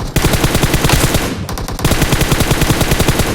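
Gunfire from behind in a shooting video game: rapid automatic bursts, loud and close, rattling almost continuously with a brief gap midway.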